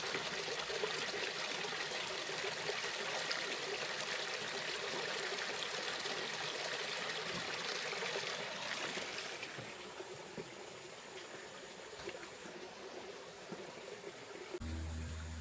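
A stream flows under a small wooden bridge, giving a continuous broad rush of running water, steady and fairly close, easing slightly near the end.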